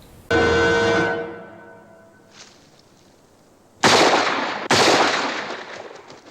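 Gunfire in a Beneath the Planet of the Apes film scene: two sharp, loud shots crack close together near the end, following a sustained ringing musical tone and a faint noise.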